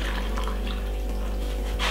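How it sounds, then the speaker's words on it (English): Water is poured into a blender that already holds pineapple, apple, ginger and lemon, giving a steady close splashing trickle that ends with a brief louder gurgle. "Then we're gonna put a little bit of water."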